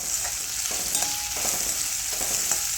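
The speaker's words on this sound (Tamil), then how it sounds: "எண்ணெய் ஊற்றிட்டு கொஞ்சம் சோம்பு, வெங்காயம், கருவேப்பிலை, வரமிளகா செவந்து வர அளவுக்கு இதையும் வதக்கிடுவோம்." Onion, fennel seeds, curry leaves and dried red chillies sizzle steadily in hot oil in a pan, a close, continuous frying hiss with light stirring and no voices.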